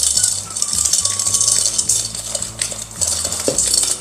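Batter for a no-bake ube custard cake being mixed in a bowl, a steady scraping and clinking of a utensil against the bowl with a rhythmic rattle throughout, close up and fairly loud, with no talking.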